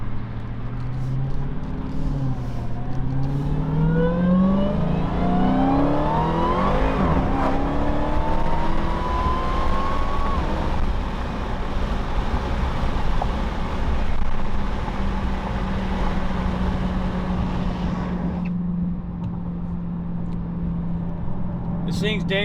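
A Dodge Hellcat Redeye on worn, low-tread tires pulls hard down a road, its engine note climbing through rising revs and gear changes before settling into a steady drone, with a voice speaking over the cabin noise.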